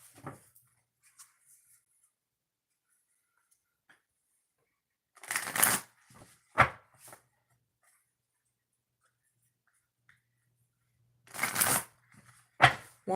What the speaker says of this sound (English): 3 shuffles and then we'll get started.